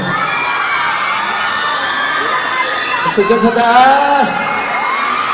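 A lively crowd cheers and shouts during a celebrity mall tour appearance at SM East Ortigas, with steady crowd roar throughout, rising whoops and yells near the end, and a voice calling out over it.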